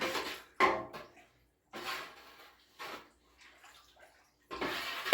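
Sugar is stirred into a warm cracked corn and barley mash, giving intermittent wet sloshing and swishing bursts up close, with short quiet gaps between strokes.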